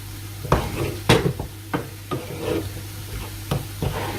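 Seafood pie filling is scraped and stirred in a pan, with a series of soft, uneven strokes and scrapes close by, a few louder knocks, over a faint steady hum.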